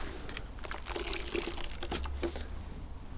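Water rinsing over the paintwork of an R8 during a car wash, heard as a steady, close splashing spray that pours and patters continuously throughout.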